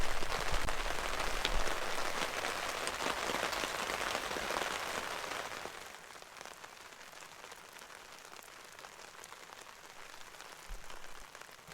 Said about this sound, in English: Rain's starting.